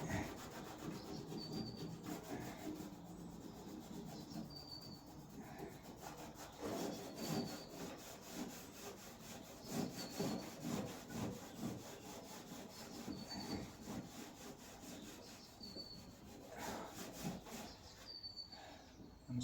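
A Land Rover Defender TD5 130 Hi-Cap suspension part is scrubbed with a scouring pad and thinners, making quiet, repeated rubbing and scratching strokes that come in irregular bursts, close but faint, with no speech.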